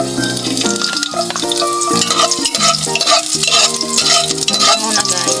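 Garlic frying in a pan while being stirred, a steady close sizzle with scraping stirring strokes throughout; background music plays over it.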